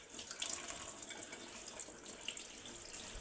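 Sambong leaves are washed under a running tap, a steady, faint hiss of water splashing in a sink with no voices.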